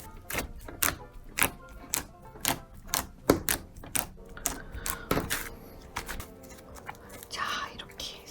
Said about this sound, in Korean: 버터지만 양이 많아가지고 가끔 기포 소리도 나요.